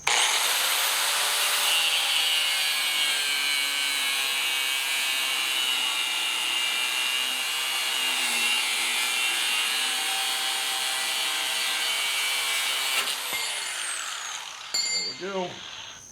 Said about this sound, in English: I'm just gonna use an angle grinder.